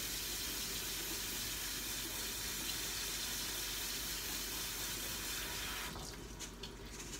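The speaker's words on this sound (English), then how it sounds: "I'm just gonna rinse them off in the water really quick." Tap water runs into a kitchen sink as vegetables are rinsed, a steady hissing splash held for several seconds that eases near the end, quiet and without talk.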